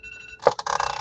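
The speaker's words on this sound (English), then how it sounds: "Now my alarm's going off on my phone." A phone alarm goes off, a repeating electronic ringing tone that starts partway through and continues steadily, loud and close, with no talking over it.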